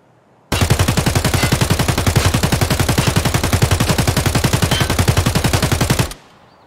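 Sustained full-auto burst from an AK rifle with its stock folded in Escape from Tarkov, a loud, rapid, even stream of shots lasting about five and a half seconds before stopping abruptly.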